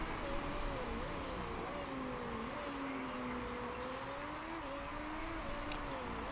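Race car engines in the Motorsport Manager video game hum steadily at a moderate distance, their tones rising and falling gently across the whole stretch with no talk over them.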